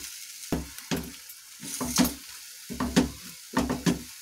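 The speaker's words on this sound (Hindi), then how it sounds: "अब मैं इसमें ये किसी भी चटनी डाल दूंगी और इसे हम 1 से 2 मिनट इसी प्रकार से भूनेंगे।" Green chickpea chutney fries in a pan with mustard seeds and chillies, sounding as a soft sizzle broken by five or six close bursts of stirring and scraping at a fairly even pace.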